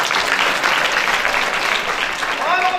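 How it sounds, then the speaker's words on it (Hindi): An audience at a village cultural festival in Nisurkha, Bulandshahr, gives a loud, dense round of applause, with many hands clapping steadily for a few seconds. "एक बार जोर से ताली बजाइए आपको।"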